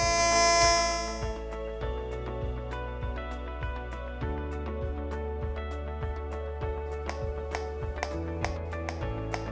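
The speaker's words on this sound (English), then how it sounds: "the detector will be alarming and you'll hear a constant ringing sound like this." A natural gas and propane leak detector sounds a loud ringing warm-up alarm that breaks into a steady series of rapid, evenly spaced ticks and beeps.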